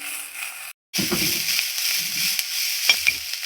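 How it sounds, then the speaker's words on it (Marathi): Pigeon pea pods dry-roast in a pan while being stirred and mixed, giving a steady crackling sizzle with scraping stir strokes. A short silent gap breaks it early on, then the stirring and sizzling continue. "तुरीच्या सोल्यांना डाग भाजून घेऊ छान असं मिक्स करत भाजून घेऊ"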